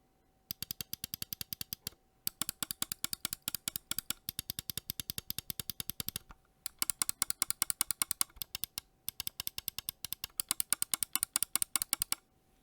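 Pulsar X2 Mini gaming mouse with optical switches, clicked in rapid, even runs of crisp, sharp taps broken by short pauses, close and alone.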